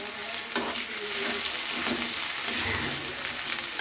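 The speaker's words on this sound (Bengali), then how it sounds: "আর দিয়ে এবার নাড়িয়ে চাড়িয়ে নিচ্ছি আমি।" Spices and potatoes sizzle and get stirred in a frying pan for a hilsa curry with eggplant, making a steady frying hiss with occasional scrapes of the spoon, close up and without talk.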